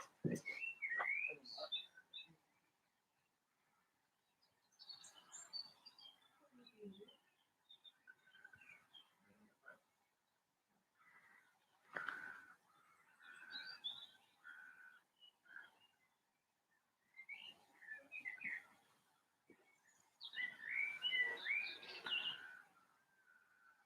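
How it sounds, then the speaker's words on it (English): Outdoor birdsong from blackbirds, robins and wrens, scattered whistles, chirps and trills in short phrases separated by quiet gaps, fairly distant, growing busier toward the end. "I expect you would have heard some blackbirds, probably some robins. We've got a few wrens around here."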